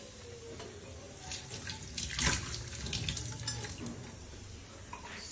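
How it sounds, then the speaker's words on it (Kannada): Coriander leaves being rinsed under a running kitchen tap, a steady close splash of water into a sink with brief louder gushes as the bunch is moved through the stream. "ಸ್ವಲ್ಪ ಕೊತ್ತಂಬರಿ ಸೊಪ್ಪು ತೊಳ್ಕೊಬಿಡೋಣ"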